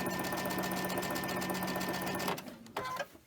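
A domestic sewing machine with a universal needle runs a quarter-inch seam joining cotton fabric strips at a 2.5 stitch length, a steady close whirring burst that stops after a couple of seconds, followed by a few brief clicks and handling noises.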